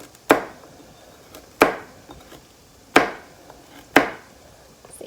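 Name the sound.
rough chopping of vegetables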